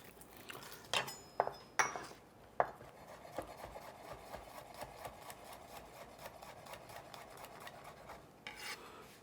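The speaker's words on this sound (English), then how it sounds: "give it a quick smash, and we're gonna mince this up" A knife mincing smashed garlic on a cutting board for a low carb corn salad, with sharp close chops in an uneven burst early on, then faint, steady rapid tapping, no talk.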